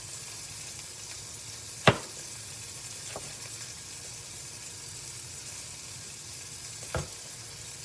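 A turkey burger sizzles in butter in a hot pan, a steady soft frying hiss with a couple of brief clanks from the pan or utensil. No one speaks over it.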